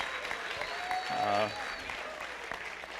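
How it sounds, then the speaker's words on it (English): An audience at a university graduation ceremony applauds a high school graduate, moderate clapping beneath voices, with a short, louder swell near the middle. "give her a round of applause for graduating high school"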